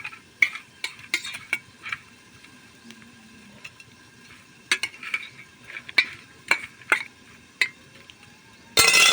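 Fish pieces are mixed by hand with turmeric and salt, producing soft wet squelches and sharp clinks against a bowl in irregular bursts over quiet gaps, close and fairly faint, ending with a sudden loud rustle.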